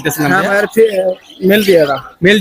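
A parrot gives a run of loud, close, voice-like squawks and warbling calls in quick succession at a bird market in Bangladesh.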